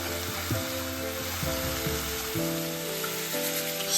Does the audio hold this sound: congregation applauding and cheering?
no